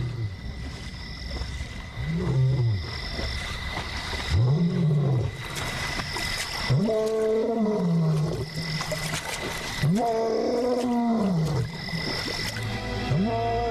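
Several deep, drawn-out lion roars rise and fall in a steady series, loud and close, with a faint high whine and wild ambience behind them.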